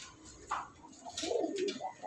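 A young Kanaka-line pigeon from a 2022 ring coos softly at close range, a brief low murmuring call against quiet room background.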